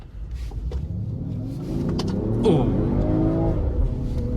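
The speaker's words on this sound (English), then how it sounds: "So just listen, this is a V8." A Range Rover Sport SVR with a 575-horsepower V8 climbs uphill under load, its engine giving a steady, rising low rumble and growl that swells midway and holds strong, with a brief exclamation over it.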